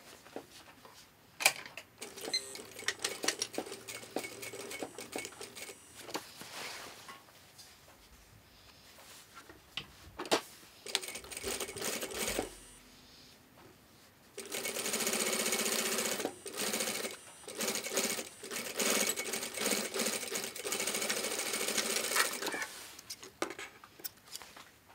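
A sewing machine runs a quarter-inch top stitch along a slant pocket shape, its motor whirring in bursts that stop and start, with a long sustained run near the end.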